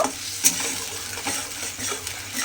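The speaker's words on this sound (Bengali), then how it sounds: "তেলের মধ্যে মশলাটা দিয়ে ভালোভাবে একটু কষিয়ে নিতে হবে" Masala spices sizzling in hot oil for an eggplant malai curry, a steady close crackle with a spatula scraping and clinking against the pan in an irregular rhythm throughout.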